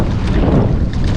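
Wind blows across a bikepacking trail, a loud, steady rumbling buffet over the microphone that fills the whole short moment with no voices.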